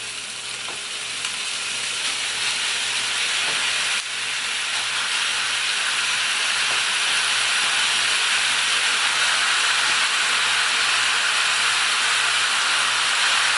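Ground beef dropped into a hot pan with onions, sizzling loudly in a steady, dense hiss that grows slightly as the meat spreads, close up and continuous with no talking.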